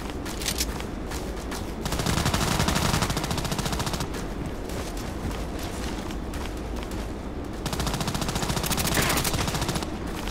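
Cobra gun in Contract Wars firing in rapid automatic bursts, loud dense crackling volleys with brief pauses between them, no talking.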